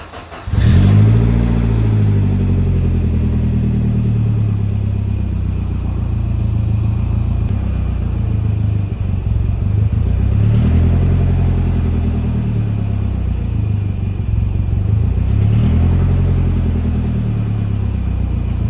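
A Saab 900 engine rumbles steadily while driving, a close, loud mid-range drone that swells a few times as the throttle opens, with no voices over it.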